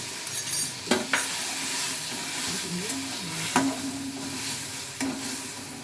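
Spice-washing water poured into hot oil for a prawn kebab curry hisses and sizzles steadily, broken by a few sharp clanks of a spoon or utensil against the pan.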